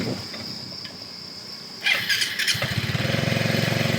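A motorcycle engine starts up after a squealing whine, then settles into a steady, close idle.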